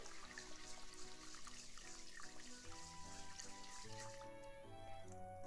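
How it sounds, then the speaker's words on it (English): Rice grains swished and stirred by hand in water in a pot during rinsing, a soft continuous sloshing and dripping, close and quiet, with no talk. "All the ingredients are ready, so let's rinse rice."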